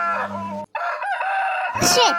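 Chickens cluck close by as a rooster crows loudly in a drawn-out call, then another sharp crow follows, all near and prominent.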